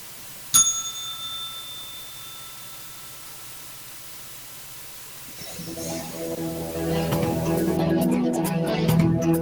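A single bright ring of a market opening bell sounds at the start and its clear tone fades over a couple of seconds, then a quiet hiss follows and music rises toward the end.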